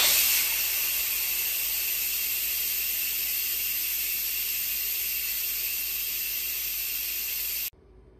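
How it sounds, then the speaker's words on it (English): An Instant Pot pressure cooker quick-releases its steam in a loud, steady, close hiss that holds for several seconds and then cuts off abruptly. "so let's quick release the steam."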